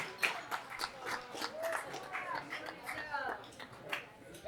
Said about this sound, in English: we want to give a big round of applause for Mr. Music Support Man here